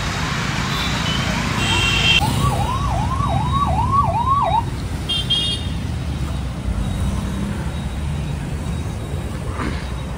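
Ambulance siren wailing in a rapid repeating up-down pattern for a couple of seconds amid street traffic noise, then cutting off while the engine and road rumble continue.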